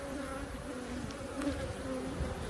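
Honey bees crawl and buzz on a hive frame of brood and honey during an inspection, a soft, continuous close hum with no talking.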